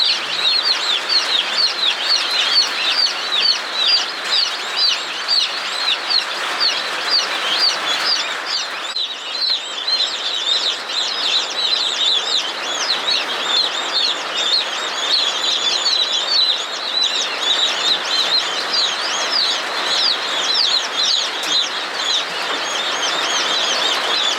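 Two-day-old meat chicks chirp nonstop in a dense, high chorus, loud and close, while soft clucks mix in throughout.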